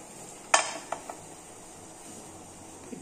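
Desi ghee sizzling in a pan as atta begins to fry, with a sharp crackle burst near the start followed by a couple of small pops and a faint steady hiss.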